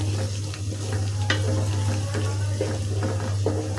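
Chopped large-clove garlic fries lightly in a pan alongside ginger-garlic paste, giving a steady, soft sizzle over a low constant hum, with a few faint clicks and scrapes scattered through.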